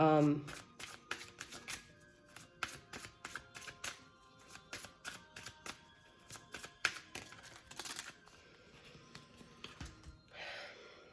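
A deck of oracle cards is shuffled by hand, producing bursts of crisp riffling flicks and slaps in an uneven rhythm, close and clear in a quiet room, ending with a softer rustle.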